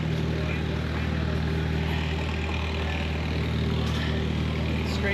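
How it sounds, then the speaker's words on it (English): A planer driven by an International stationary engine runs steadily at a vintage farming and tractor show, its dense, continuous machine drone holding a constant level throughout with a low engine hum beneath. "Running the planer."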